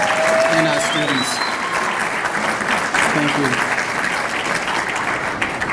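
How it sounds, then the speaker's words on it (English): At the Early College High School Pathway symposium with Quincy Public Schools, an audience gives steady, sustained applause for a presenter and students, while a speaker talks briefly over the clapping. "How about another round of applause for Skylene and our students?"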